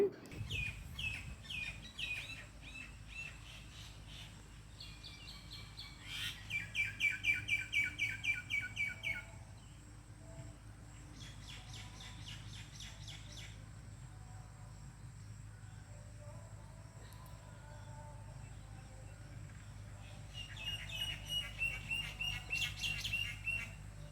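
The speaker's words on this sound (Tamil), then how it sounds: "பார்க்குற எல்லாருக்கும் இந்த குருவியோட சவுண்ட் பிடிச்சிருக்கா" Sparrows chirp in quick, bright bursts around a home during a baby shower gathering, rising and falling in clusters over a steady low background hum; the calls are moderately faint, with no one speaking.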